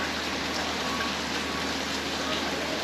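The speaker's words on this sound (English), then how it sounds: "I looked outside, the rain looked horizontal." Heavy rain from Hurricane Fiona in Atlantic Canada, driven by strong wind, makes a steady, dense hiss that holds without a break through the short stretch, with no voices.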